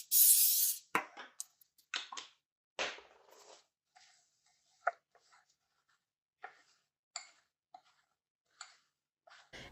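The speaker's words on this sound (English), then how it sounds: "you're going to spray your muffin pan with nonstick spray" Nonstick cooking spray hisses onto a muffin pan in one short burst, followed by scattered light clicks and taps of the can and tin.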